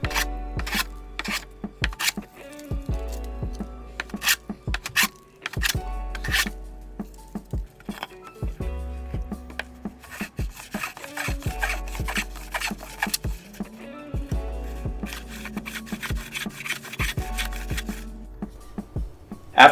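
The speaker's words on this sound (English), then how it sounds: "After doing a couple boards with the little hand planer, I smartened up and used a bigger one" A larger hand plane is pushed along firewood boards in repeated rasping strokes, each a coarse scraping shave followed by short pauses, close up and steady throughout with no speech.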